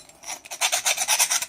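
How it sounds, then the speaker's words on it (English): A 3D printer extruder base being sanded by hand to clean off chips, heard as quick repeated rasping strokes, close and fairly faint, with no voices. "It may have a little bit of chips here, so I'm going to sand it a little."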